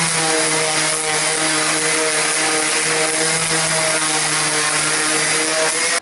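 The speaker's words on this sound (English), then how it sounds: "I'm going to sand that off, and we're going to go with another shade lighter than that" A power sander grinding stain off a wooden log bed, a steady, loud, continuous whine with a strong hum that runs unbroken from start to finish.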